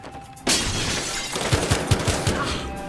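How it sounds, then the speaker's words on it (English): Gunfire in the Battlefield Hardline video game: a loud burst erupts, then a run of sharp, evenly spaced shots crack out over a busy, cluttered game soundscape. "I don't appreciate getting shot at."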